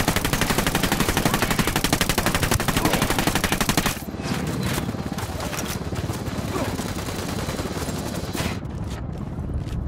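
Rapid automatic gunfire in the Ghost Recon Wildlands video game, a dense sustained burst of shots for about four seconds, then scattered, quieter shots and explosions continuing behind.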